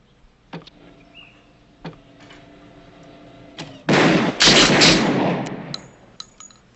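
Handgun shots fired in a crime drama scene; a few sharp isolated cracks are followed by a loud sustained burst of rapid gunfire lasting about two seconds, then scattered faint reports.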